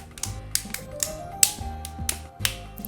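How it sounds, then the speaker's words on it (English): A Galaxy Note 2 phone case being snapped back together after a repair, giving a series of small sharp plastic clicks at irregular intervals, close and fairly quiet with no talking. "Now we can finally click it back together."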